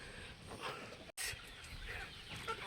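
Backyard chickens cluck at a farm, soft and somewhat distant, with a few scattered calls over a low outdoor background and a brief dropout partway through.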